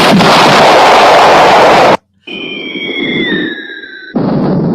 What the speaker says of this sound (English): That was a missile.